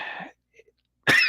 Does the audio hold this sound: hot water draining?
no